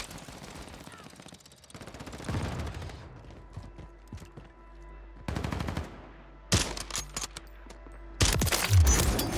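Bursts of rapid video-game gunfire crackle in several loud volleys, separated by quieter mechanical clicking and rattling.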